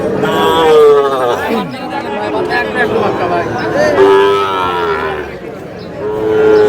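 Sahiwal bull calves lowing at a busy cattle market, several drawn-out moos rising over a constant crowd of people talking and bargaining nearby.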